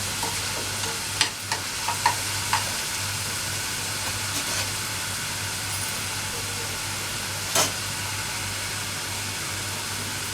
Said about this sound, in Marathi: थोडासा मऊ करून घेऊया आपण कांदा